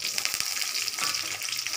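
Steady hiss of chopped onions, green chillies and curry leaves frying in hot oil, a close, continuous sizzle with faint stirring scrapes underneath.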